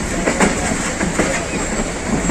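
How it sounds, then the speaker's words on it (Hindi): Pakistan Express passenger train pulling into Faisalabad station on a hot, sunny day, a steady rumble of railcars with rhythmic clickety-clack wheel beats over the track, fairly close and continuous. "डाउन पाकिस्तान एक्सप्रेस बड़ा टाइम से 6 मिनट पहले फैसलाबाद स्टेशन पे पहुंच रही है।"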